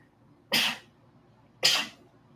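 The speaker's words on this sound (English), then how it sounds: "I'm going to sneeze." Two sharp sneezes from a person, close and loud, each a sudden burst about a second apart against a quiet background.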